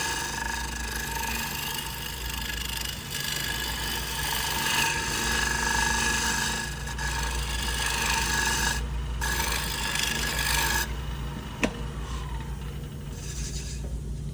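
A cutter takes a peeling cut on wood being turned flat, a steady raspy scraping that keeps on with brief pauses and one sharp tick near the end.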